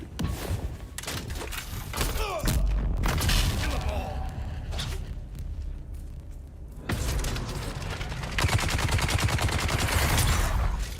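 Video game gunfire comes in bursts of rapid shots and heavier booms, loud and close, with stretches of quieter action between the volleys.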